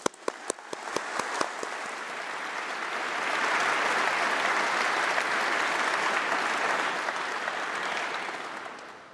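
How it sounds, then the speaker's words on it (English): An audience at a university summer congregation ceremony applauds, starting with a few sharp separate claps that quickly swell into sustained, dense clapping from a large crowd, then taper slightly near the end. "please, round of applause for everyone there."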